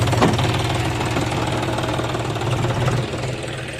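A farm tractor heads toward a village house, its low, knocking engine rumbling steadily nearby before easing slightly at the end.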